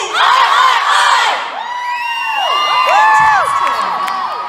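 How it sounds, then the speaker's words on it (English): Australian crowd at VidCon Australia 2018 cheering, whooping and chanting in an auditorium, loud sustained massed voices with rising and falling yells filling the hall. "Now we've got the Aussie crowd pumping in the auditorium."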